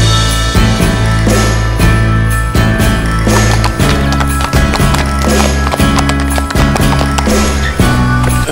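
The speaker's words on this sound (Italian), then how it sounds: "Anche i cavalli, avete visto? È pieno di cavalli." Horses' hooves clip-clop in a steady walking rhythm on a California trail, loud and close over constant low rumbling noise.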